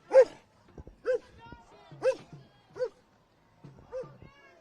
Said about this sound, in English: Oh, they brought out dogs in the K9 truck,